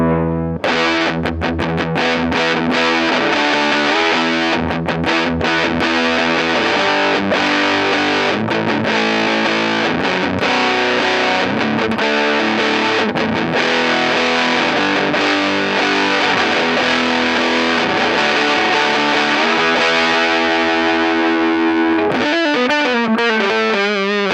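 Loud, saturated electric guitar through a Lil Trees Guitar Co. Velvet Ant Fuzz pedal with all knobs maxed, chords strummed and held in a thick, buzzing roar that ends with a wobbling, warbling tail.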